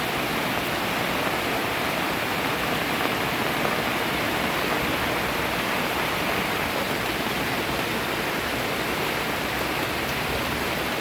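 Steady rain pours down on a rooftop vegetable garden with papaya and komatsuna plants, a dense, even hiss that holds constant and close throughout with no voices.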